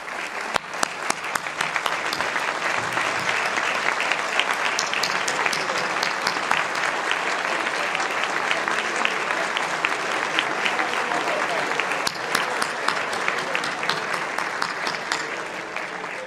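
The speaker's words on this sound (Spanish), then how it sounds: "y un aplauso para todos ellos." Sustained applause fills a large hall as police education reformers are honored during the Dominican president's third annual accountability address, dense steady clapping from a big audience running throughout with a few sharper claps near the start.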